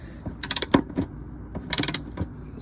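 Torque wrench ratcheting on the transmission drain plug of a Toyota Tundra, two short bursts of close metallic clicks separated by a few scattered creaks and taps.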